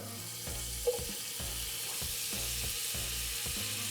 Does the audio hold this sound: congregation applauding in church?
no